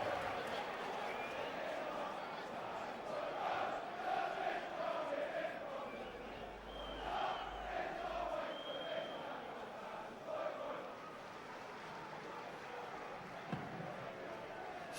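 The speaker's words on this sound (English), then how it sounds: "there will be a tribute here to him ahead of kick-off with a minute's applause" Football crowd at a Portsmouth v Charlton Athletic match giving a minute's applause before kick-off, a steady dense wash of clapping and murmur from a large stadium audience throughout.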